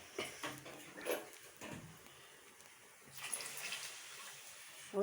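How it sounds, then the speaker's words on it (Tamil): Water poured into a cooking pot of tamarind kuzhambu with paruppu urundai (lentil balls), a soft splashing pour in short bursts, quiet and close with pauses between. "தேவையான அளவு தண்ணி ஊற்றிக்கிங்க."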